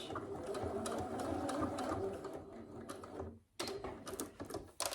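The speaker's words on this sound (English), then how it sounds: "And back stitch." A sewing machine runs a back stitch while constructing a bodice for a McCall's 7908 pattern, a rapid steady clatter that pauses briefly, then resumes in short bursts close up.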